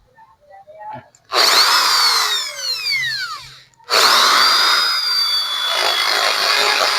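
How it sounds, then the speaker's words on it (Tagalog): A power drill bores into a broken Sniper 155 motorcycle fairing: two long, loud whining runs with pitch that sags under load, separated by a brief pause and light handling noise. "Tapos drill."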